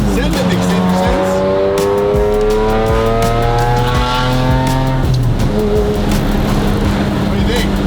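Ferrari V12 in a custom build with 1999-era suspension revs and pulls through gears while cruising a coast highway, loud and close, pitch sweeping up and dropping, with tire squeal and someone talking over it.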